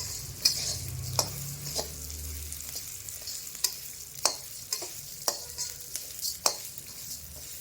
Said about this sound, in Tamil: உளுந்து போட்டு நல்லா வறுத்துருங்க